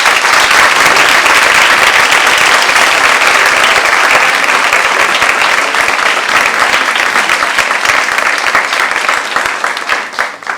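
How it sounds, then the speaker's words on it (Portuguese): A live audience at a panel talk on love in contemporary times breaks into loud, sustained applause for the guests, dense clapping that runs steadily for about ten seconds and thins slightly at the end. "pedir que vocês já aplaudam desde já os nossos convidados"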